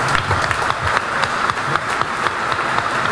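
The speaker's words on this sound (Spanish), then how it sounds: "todos le demos un fuerte aplauso" A conference audience claps loudly and continuously after a talk about schooling, a dense, even wash of hands filling the hall without speech.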